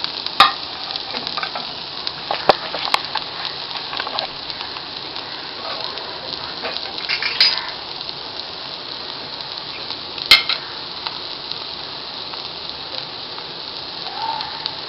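Vermicelli dosa cooks in oil on a pan with a steady, close hiss and sizzle that holds evenly for about fifteen seconds, broken by a few faint ticks and clinks, with no voices.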